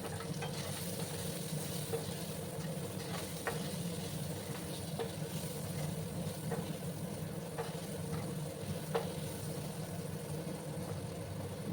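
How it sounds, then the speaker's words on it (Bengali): Potatoes fry in a pan seasoned with turmeric and salt, giving a continuous even sizzle with scattered soft ticks and pops, close by with no talking. "একটু লাল লাল করে আলুগুলোকে ভেজে নিতে হবে।"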